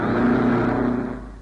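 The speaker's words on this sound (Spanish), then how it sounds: "Van pasando las máquinas cumpliendo la primera vuelta." Vintage race cars passing on the Piriápolis circuit during the first lap, a brief engine whir that swells and then fades as the cars go by.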